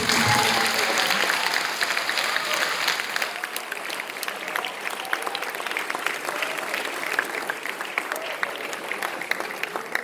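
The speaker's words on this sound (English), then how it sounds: "So can we have a round of applause?" A crowd at a boys' final awards ceremony claps loudly, the applause starting full and then thinning into scattered, continuing claps over about ten seconds.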